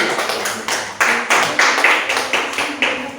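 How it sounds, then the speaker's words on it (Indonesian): A classroom of children claps together in a rhythmic pattern, a series of sharp, evenly spaced group claps close by, with faint voices underneath. "tepuk tangan."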